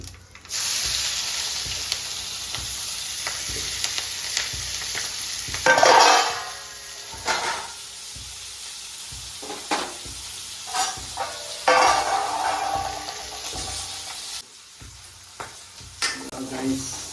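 Whole cumin, chopped onion and chillies fry in a pan as a spoon scrapes and stirs, giving a steady close sizzle broken by louder bursts of scraping, with no talking.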